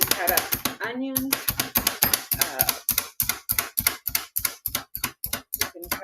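A Pampered Chef food chopper is pumped rapidly, giving a fast, regular train of sharp clicking chops, close and crisp, with a voice heard briefly at the start.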